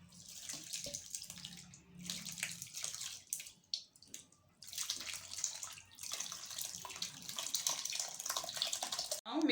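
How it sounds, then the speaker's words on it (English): Curdled milk strains through a thin white cloth as whey pours and splashes steadily into a vessel, a continuous close watery rush that swells and dips over several seconds. "Now we have to take a white cloth, thin white cloth, and you have to strain the milk"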